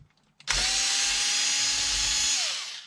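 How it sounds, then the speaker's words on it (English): A power drill removes screws from an XMAXX RC truck during a teardown: one loud, steady motor whine runs for about two seconds, then winds down at the end, heard alone and close. "So, I may have to take the rest of those screws out."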